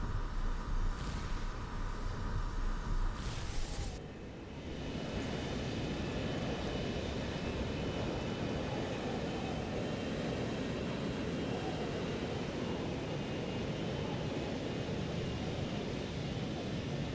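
Airplane engine roar in Grand Theft Auto 5, a loud continuous drone that briefly dips and swells again before holding steady, with no voices.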